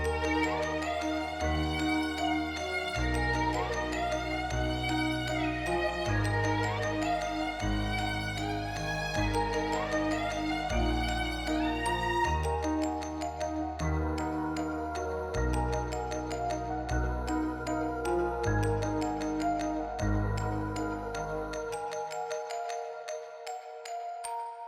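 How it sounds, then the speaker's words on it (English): Layered melody loops of a hard hip-hop beat built in FL Studio, bright synth and piano-like lines repeating in bars over deep sustained bass notes, played alone and clearly, ending with a fading tail. "Now, all together, the melodies actually sound like so."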